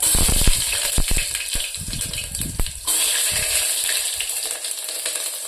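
Chopped onions and cumin sizzle in hot oil in a pressure cooker, a loud, bright, hissing fry broken by clattering stirs and scrapes. The hiss flares sharply partway through, then settles into a steady crackle.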